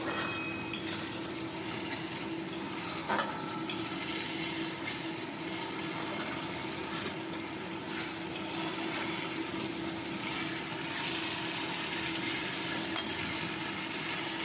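Mustard-seed paste, oil and hot spices fry and are stirred down in a pan in a home kitchen, a continuous close sizzle with occasional clinks and scrapes of utensil against pot.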